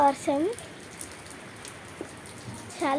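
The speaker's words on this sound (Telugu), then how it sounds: "వర్షం పడుతుంది." Soft, steady rain patter in the background, with a voice speaking briefly at the start and end.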